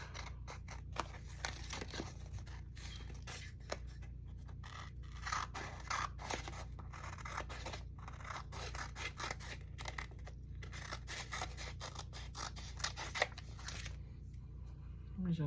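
Scissors snip around a shape in paper for a craft journal page, a quiet run of short, quick cuts and scraping paper over a low steady hum, with no talking.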